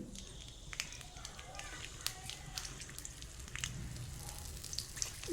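Masala chilies frying in a little oil for a sprouted horse gram bassaru, a soft steady crackle and sizzle with scattered sharp pops, fairly quiet and close throughout.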